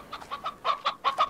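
A chicken clucks in the Slime Rancher video game, a rapid string of about eight sharp clucks in uneven bursts, close and clear with no talking.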